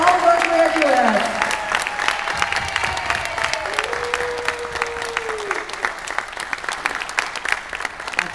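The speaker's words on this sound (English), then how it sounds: "Let's give a round of applause for all of our graduates." Sustained audience applause for the graduates at a 2012 North Syracuse special education graduation ceremony, dense clapping filling the hall throughout, with a speaking voice over it near the start.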